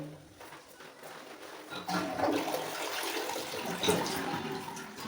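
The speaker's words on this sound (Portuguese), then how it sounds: "Descarga funcionando" A toilet flushing during an apartment inspection, a faint rushing swirl of water that swells after a couple of seconds and keeps draining steadily.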